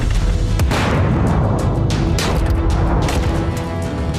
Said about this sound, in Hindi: हिजबुल्लाह पर इजराइल का बारूदी प्रहार।